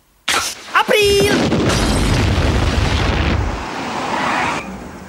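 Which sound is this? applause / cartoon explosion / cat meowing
cartoon explosion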